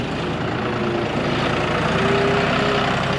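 A John Deere 5040D tractor's diesel engine runs steadily at low revs, a continuous deep rumble with a faint mechanical hum, close by and fairly loud.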